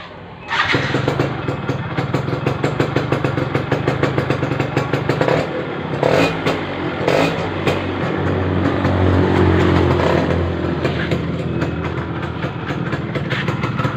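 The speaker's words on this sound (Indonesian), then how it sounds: "untuk motor standar, dia bunyi pas turun gas yang akhir dia tetap ada meletusnya ya." An F1ZR motorcycle engine with sluggish pull and sputtering fires up and runs with a rapid, throbbing putter, rising in a few revs before settling back, loud and close.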